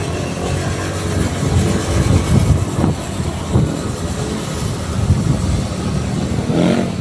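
A motorcycle engine drones steadily on a long-distance road ride from Tanza, Cavite to Nabua, Bicol, with wind rush and rumbling revs rising and falling throughout, no talk over it.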